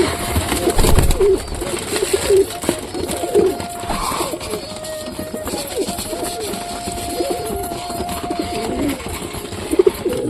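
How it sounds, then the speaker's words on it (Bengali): Pigeons coo repeatedly while they feed, a soft steady chorus with scattered flutters and shuffling. Occasional outdoor noise runs throughout, and no one talks. "সব কবুতরগুলো খুব সুন্দরভাবে খাচ্ছে।"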